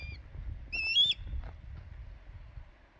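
Outdoors at a Wyoming campsite, a wild bird gives a few short, whistled calls, faint and somewhat distant, over a low rumble of wind and background noise.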